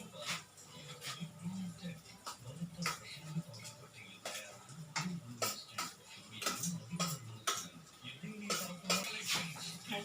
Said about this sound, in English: I'll give it a little stir